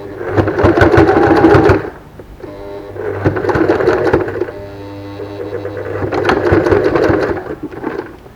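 A domestic sewing machine stitches a fabric face mask in three close, loud bursts of rapid, even needle clatter, separated by brief pauses with a low motor hum between runs.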